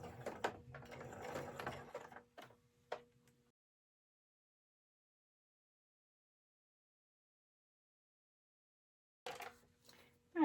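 Sewing machine backstitching over elastic on a fabric face mask, a brief close mechanical stitching burst followed by a few clicks, then a long silence before another short whir at the end.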